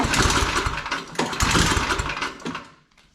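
An MTD Snowflite 826 snowblower engine runs without choke, a steady loud mechanical drone with rapid pulsing that holds for most of the stretch before dropping away near the end.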